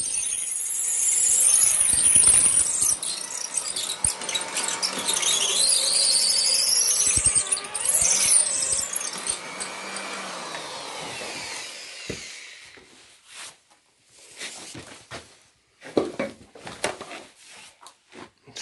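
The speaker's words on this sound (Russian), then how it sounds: "Сверлим под армирование." A drill with a carbide bit grinds and squeals loudly into masonry for about twelve seconds while building a stove, then stops, leaving scattered knocks and handling noises.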